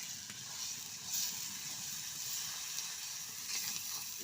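Spice masala with salt frying in oil, a steady soft sizzle with a fine crackle running evenly throughout, close and moderately quiet, with no talking.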